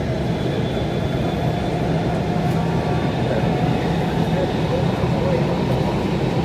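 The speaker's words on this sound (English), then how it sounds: "Oh, it's the first train." A Hong Kong light rail train runs on the Kennedy Town to Town Center line, giving a steady close rumble and rolling drone that holds throughout with no break.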